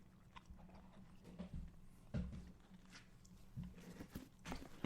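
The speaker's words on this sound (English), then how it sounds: "I was just brought a Chipotle-sized burrito. And so I'm chewing in your ears." Someone chews a large Chipotle-sized burrito close to the microphone, soft irregular biting and mashing sounds with wet thumps, quiet and alone with no talking.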